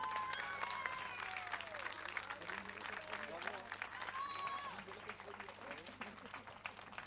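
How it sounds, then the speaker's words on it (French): An awards-ceremony crowd at the Ultra Marin race gives sustained applause for a winning ultra-trail runner, a steady wash of clapping with shouts and voices mixed in, fairly distant and easing slightly toward the end. "réservez un tonnerre d'applaudissements"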